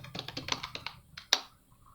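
Typing on a computer keyboard while entering Python code: a quick run of close, crisp key taps, then a pause and one or two louder strokes, fading toward the end.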